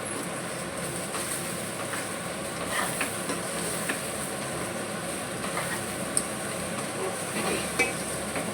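Chicken biryani with fresh coriander gets stirred in a pot, giving a steady soft scraping and shuffling hiss with faint sizzling throughout and no talk.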